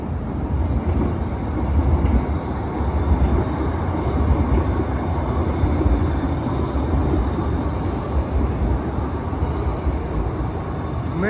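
Edmonton LRT light rail train passing close by, a loud steady broadband rumble and roar that holds for the whole stretch with no pauses.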